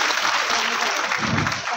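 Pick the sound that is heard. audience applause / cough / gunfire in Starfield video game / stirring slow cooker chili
audience applause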